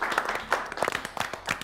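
Short burst of audience clapping at a children's spelling competition, uneven and moderately loud, with scattered individual claps rising and falling over under two seconds.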